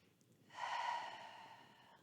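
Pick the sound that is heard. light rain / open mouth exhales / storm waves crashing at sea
open mouth exhales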